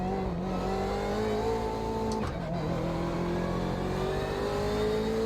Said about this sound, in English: Here come the LMP1 cars.